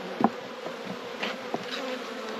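Honeybees in a hive during a late-February inspection, a soft continuous buzz with a few brief louder bursts as individual bees pass close, no voices.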